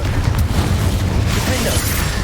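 A Confringo blasting spell goes off in the Hogwarts Legacy video game, a dense, booming explosion with rumbling low-end that sustains loudly for a couple of seconds.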